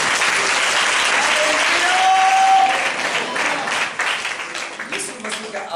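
Loud, sustained clapping from a church congregation during a Hindi sermon fills the space evenly, with faint cheering voices and a brief whistle-like tone rising over it before the applause gradually thins.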